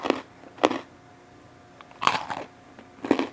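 Three sharp, close crunches at a steady pace as someone bites into dry, brittle freeze-dried potato gnocchi, with quiet pauses between bites.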